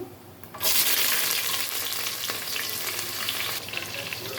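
Onions and green chillies frying in hot oil with whole spices, a steady loud sizzle that jumps up sharply as they go into the pan and keeps crackling, with brief stirring noises.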